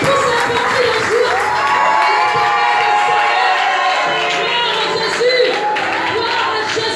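A church congregation cheers and acclaims together in a loud, continuous swell of voices, with whoops and scattered clapping mixed in throughout.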